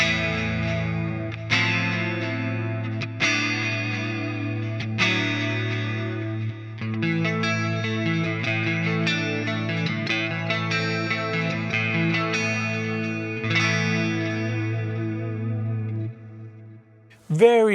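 Clean electric guitar played through a Fractal AM4 with stereo chorus in front, lush shimmering sustained chords with periodic fresh strums, steady and fairly close, ending in a brief noisy burst.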